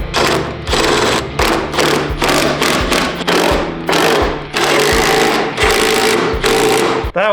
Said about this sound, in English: But I'm finally gonna bolt this stupid brand new hinge on.